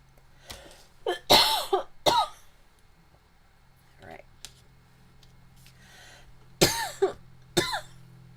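Several sharp, harsh coughs and throat-clearing bursts come in clusters, close and fairly loud, separated by quieter gaps with faint clicks.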